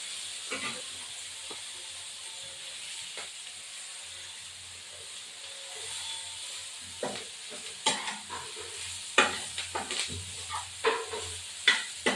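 Boiled cauliflower florets fry in fish oil in a pan, a soft continuous sizzle and hiss broken by louder stirring scrapes that grow more frequent toward the end, close by with no talk.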